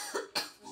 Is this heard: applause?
no